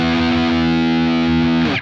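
A single heavily distorted high-gain chord on a Harley Benton electric guitar rings out loud and sustained, then cuts off abruptly near the end.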